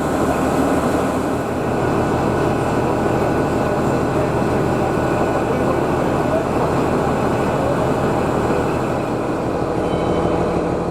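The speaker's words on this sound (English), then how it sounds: "To take the next train Wyndham bound is Class 41 prototype HST Powercar 41001, owned by the HST group of the GCRN" Class 41 prototype HST power car 41001 on a heritage line in Norfolk, a loud, steady diesel drone with a deep growl holding even for several seconds, close and unbroken.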